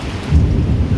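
Thunder rumbles low and deep through a rainstorm, a brief swelling boom under the steady hiss of falling rain.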